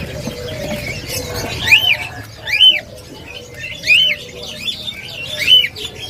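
Caged songbirds at a bird seller's stall give several sharp, rising chirps spaced a second or so apart, loud and close over a murky background of low voices and market noise.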